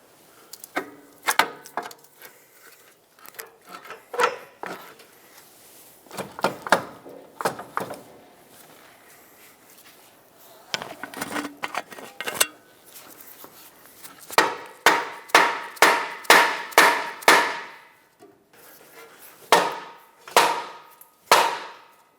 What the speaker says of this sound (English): take a pry bar and very gently tap it through to help it seat